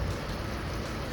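Cold wind blowing outdoors, a steady broad rushing roar with low buffeting, close and continuous for a brief moment.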